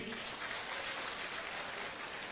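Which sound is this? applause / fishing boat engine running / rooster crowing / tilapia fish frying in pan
applause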